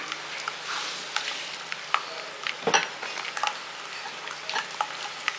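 Garlic fries in sesame oil, sizzling and crackling steadily in a pan, with occasional clinks and stirring scrapes, close by and no one speaking.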